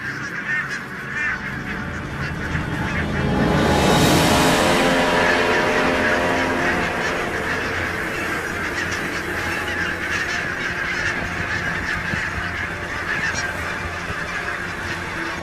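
Flock of geese honking on a Scottish island, many overlapping calls that swell in a loud burst then settle into steady nearby honking.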